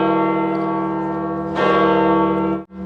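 Church bell of St. Peter's Basilica in Rome, heard from the rooftop: one loud, close, sustained ringing tone with rich overtones, a second strike swelling the sound midway before it is cut short.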